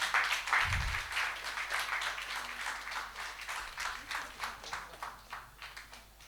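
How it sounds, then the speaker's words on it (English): Audience applause at a book launch event, a steady wash of many hands clapping with a brief low thump near the start, gradually thinning toward the end. "A huge round of applause for the launch."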